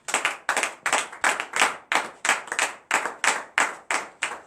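A church congregation claps in steady rhythm, about three claps per second, crisp and fairly close, with no voices over it.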